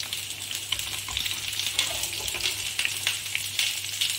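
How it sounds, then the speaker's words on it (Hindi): Stuffed capsicum fries in a pan over medium heat, giving a steady close sizzle with scattered pops and crackles throughout. "मीडियम आंच पर इसको अच्छे से फ्राई करेंगे।"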